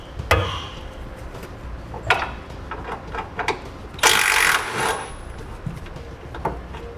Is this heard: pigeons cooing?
no